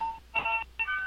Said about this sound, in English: No, that's my doorbell.